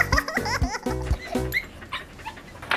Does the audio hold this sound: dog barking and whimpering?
yes